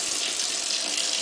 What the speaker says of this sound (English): Might want to run it under some warm water